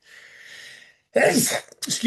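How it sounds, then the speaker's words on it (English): A single sharp sneeze bursts out loud and close, followed by a brief catch of breath, after a quiet stretch of faint background hiss. "I'm going to probably turn off my mic and have a sneezing fit."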